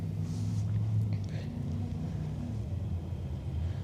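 A freshly built race car's engine idling and rumbling at an evening event, a steady deep low throb, fairly loud and close, with no clear revs.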